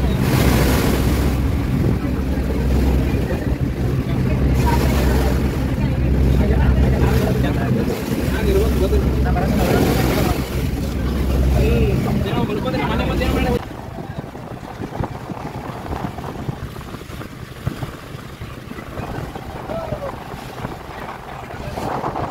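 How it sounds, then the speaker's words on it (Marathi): A boat bound for Elephanta island off Mumbai churns across the sea, its engine drone and wind buffeting loud and steady before dropping to a quieter hum of water and wind. "आजच्या दिवशी एलिफंटाची बोट सोडण्यात आली आहे"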